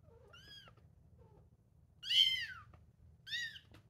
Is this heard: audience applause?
no